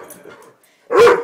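A Weimaraner lets out a loud, close burst of barking lasting about half a second, coming after a stretch of quieter background sound.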